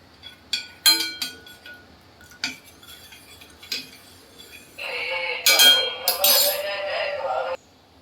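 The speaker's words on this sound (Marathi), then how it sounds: "चहा छान ढवळत राहायचा आहे" A metal spoon clinks and scrapes against a pan while ginger tea is stirred, with a series of sharp separate taps followed by a sustained rattling, scraping stir.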